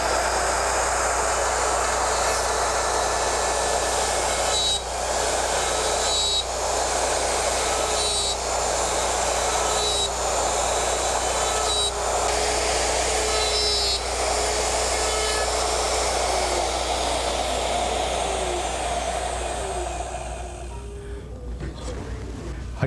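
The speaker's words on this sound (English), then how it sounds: "Take your router, we'll do our shoulder cut," A router on a Porter Cable Omnijig 5116 dovetail machine cuts pins and tails in wood, a loud steady motor whine with repeated passes through the workpiece, close by, then winding down at the end.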